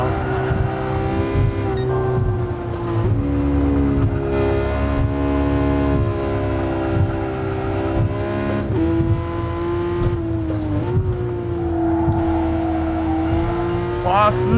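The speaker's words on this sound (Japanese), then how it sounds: "ポルシェ997の GT3 ですね、まあ、MK2 だねこれね" Porsche 997 GT3 Mk2 engine in Gran Turismo Sport, a loud sustained drone whose pitch climbs and dips through gear changes, steady and close throughout.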